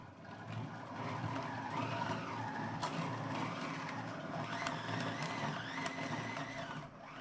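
A Compact Cook Elite food processor runs at speed 5 while slicing and grating, giving a steady, loud mechanical whir with a rattling, shifting drone that holds for the whole stretch.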